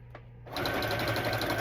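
A sewing machine stitches through thick faux leather from a worn-out purse being made into a journal cover, starting after a short quiet moment with a steady, rapid mechanical whir and rhythmic needle clatter, close and fairly loud.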